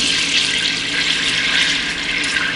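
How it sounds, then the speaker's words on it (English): Heavy cream poured into melted butter in a pan for fettuccine Alfredo makes a steady, close, continuous liquid pouring hiss with no break. "slowly pour in 2 cups of heavy cream"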